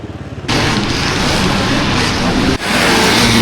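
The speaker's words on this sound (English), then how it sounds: "Great engine in a sidecar" A vintage sidecar motorcycle engine at a relaxed dirt bike weekend in Conondale, Australia, roars loud and close after a brief quiet start, a sustained revving drone that dips for an instant near the end before surging again.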